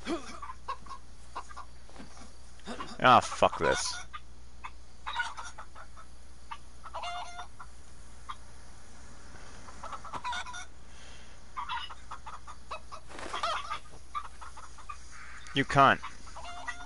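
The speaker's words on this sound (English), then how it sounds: "I hear a chicken." Chicken clucks in the DayZ survival game, brief bursts scattered among quiet stretches, with someone talking and swearing between them at close range.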